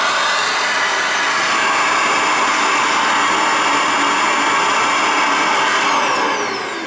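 A Riccar Vibrance R20E vacuum cleaner runs with an airflow meter attached, giving a loud, steady, broadband motor and air roar that holds for the whole stretch alone before easing slightly at the end.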